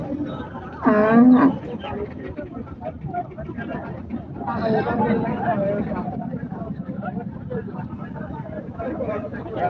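Crowded Chandaikona cattle market, muddy ground, with a cow lowing loudly once near the start and another moo a few seconds later, beneath constant chatter and murmur of many people.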